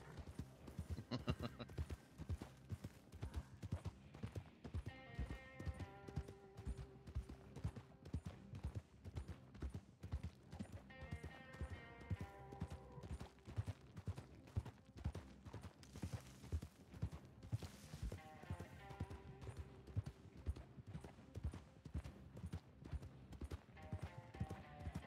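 Horse hooves clip-clop in a video game role-play session, a steady rhythmic trot running throughout over game music and effects, with occasional talk.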